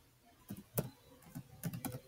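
Quiet typing on a computer keyboard, a few scattered clusters of soft key clicks in an irregular rhythm, close and alone.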